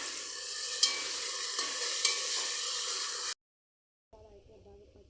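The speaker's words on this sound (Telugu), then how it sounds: "ఇప్పుడు అల్లం వెల్లుల్లి పేస్ట్ వేసుకుంటున్నాను" Ginger garlic paste with a little onion sizzles steadily in oil in a frying pan for biryani, a loud close hiss broken by a few stirring scrapes, then it cuts out into silence and a faint low hum.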